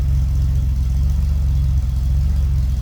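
A 1976 Datsun 280Z coupe's inline six engine idles steadily, a loud, close, low pulsing rumble with a faint rise midway and no talk.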